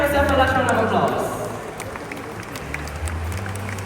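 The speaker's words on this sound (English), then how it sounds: "give yourself a large round of applause" Audience at a night safari show in Singapore clapping in a round of applause, a broad crowd wash that starts loud and gradually thins out, with a voice talking over the start.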